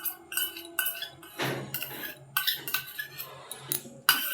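A spoon scrapes and clinks against a bowl while stirring aloe vera gel, with a run of close, irregular metallic taps and rubs and one louder scraping stretch near the middle.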